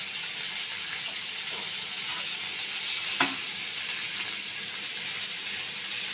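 Goan-style stuffed squids frying in a pan, a steady close sizzle running throughout with one brief sharp crackle near the middle.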